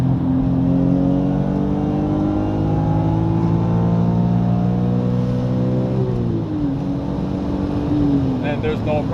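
A BMW E46 M3 on Continental ExtremeContact Sport tires pulls hard on a wet road, its engine droning loudly with rising harmonics, dipping at a gear change near six seconds, then climbing again, heard from inside the car.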